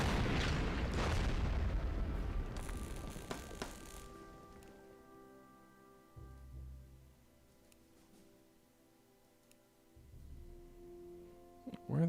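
Artillery fire in the World War II strategy game Order of Battle: World War II: a heavy boom and rumble open the scene and die away, followed by quieter low thuds in between.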